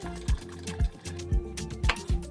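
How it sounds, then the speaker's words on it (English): Ice cubes are stirred into homemade lemonade flavoured with vanilla extract, giving a steady series of about six soft, rhythmic swishing thumps with light liquid sloshing, close and alone. "Drop in some ice cubes and stir."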